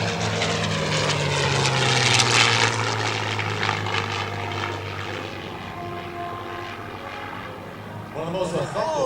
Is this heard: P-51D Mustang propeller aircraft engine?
yes